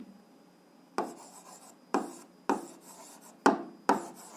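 Pen strokes scratching across paper while an eighth-grade algebra solution is written down, five short scraping bursts each starting sharply and trailing off, close and fairly quiet with no talking.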